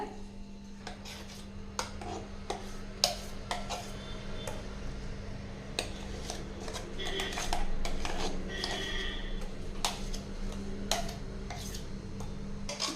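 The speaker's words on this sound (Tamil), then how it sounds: "இப்போ இது வந்து நம்ம ஒரு மிக்சிங் பவுலில் சேர்த்திக்கலாங்க" Ground urad dal batter scooped into a mixing bowl, with repeated spoon clinks and scrapes against the bowl over a steady low hum, close by and with no one talking.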